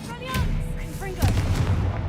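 A Confringo spell cast in Hogwarts Legacy, heard as a sharp blast with a booming burst and crackling tail, loud and close, following a short whoosh of magic.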